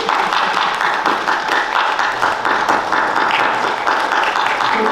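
Sustained clapping fills the hall from an oratorical contest audience, a thick, continuous patter of many hands at steady loudness throughout.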